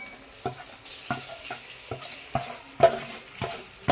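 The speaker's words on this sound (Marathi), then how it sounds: "असे सगळे कारले त्याच्यात कढईमध्ये टाकून घ्यायचे" Stuffed bitter gourds stirred and frying in a hot kadhai, a steady sizzle broken by several sharp scraping stirs at irregular intervals, close and moderately loud with no talking.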